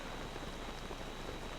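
Steady rainfall in Zelda: Tears of the Kingdom, a dense, even hiss of drops pattering on surfaces with no breaks and no voices over it.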